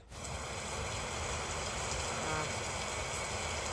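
Steady, even rain hisses continuously, a dense wash of falling water with no voices.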